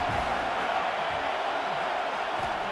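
A football stadium crowd at a Nebraska vs Ohio State game roars in support of the defense on a third down, a dense, sustained wash of cheering and noise that stays loud and even throughout.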